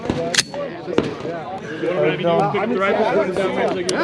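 Semi-automatic shots from a Franklin Armory F17X rifle crack out at an outdoor range, a few sharp reports spaced apart amid steady talk and chatter from people nearby.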